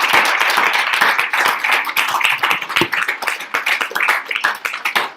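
Close, lively applause from an audience after a class, with many distinct hand claps crackling through a dense round of clapping that thins slightly toward the end.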